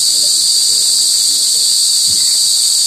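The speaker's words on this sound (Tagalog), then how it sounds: "Malakas ang huni ng kuliglig." Crickets drone in a loud, continuous, high shrill chorus at dusk, steady and dense throughout, with faint low rustling beneath.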